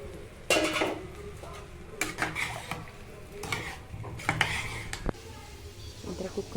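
Rice and water are stirred together in a pressure cooker pot while making mushroom biryani, with scraping and clinking spoon strokes against metal in short irregular bursts, close up over a quiet kitchen background.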